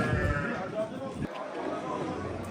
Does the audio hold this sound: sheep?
yes